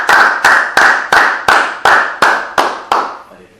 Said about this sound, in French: Acclamons le roi des rois.